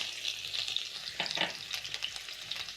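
Onions sautéing in a pan for stir-fry noodles and sausages, giving a steady, close sizzle with a brief louder crackle of stirring partway through.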